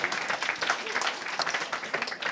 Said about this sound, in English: Smaug deserves a round of applause.